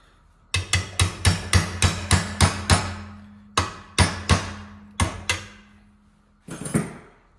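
Steel hammer striking a small chisel being fitted and notched into a workpiece: nine quick ringing blows in a steady rhythm, a pause, then four more and a final strike, close and loud with no talk.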